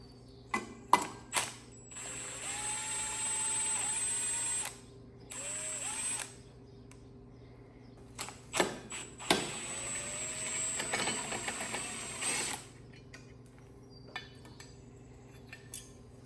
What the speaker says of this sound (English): I think we're gonna have to go ahead and pull the carb off.